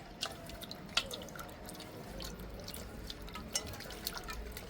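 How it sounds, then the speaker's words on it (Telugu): Water is added to a Bangda fish curry, heard as soft irregular drips and trickles of liquid close by, fairly quiet overall. "ఇంకా కొంచెం వాటర్ వేసుకుంటుండా నేను"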